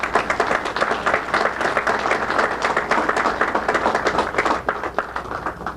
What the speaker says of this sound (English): I think Citizens deserves a round of applause for what they have done.